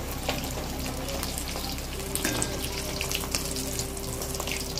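Luchi, puffed Bengali flatbreads, frying in hot oil, giving a steady broadband sizzle and hiss throughout with a faint low hum beneath, no talking.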